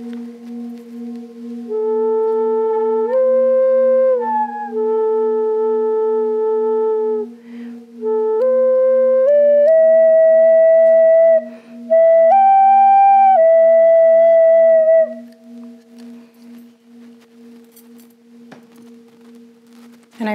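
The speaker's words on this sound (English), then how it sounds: "It's a Navajo flute." A Navajo Native American flute plays a slow, breathy melody of sustained tones, rising in steps and pausing between phrases over a steady low drone, close and clear with no talking.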